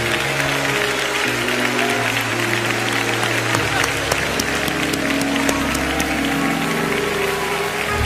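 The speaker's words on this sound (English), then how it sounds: "Clap your hands as Bishop Jakes comes." A church congregation claps and cheers as a bishop comes forward, dense, loud, continuous applause from a large crowd with a sustained organ or keyboard chord underneath.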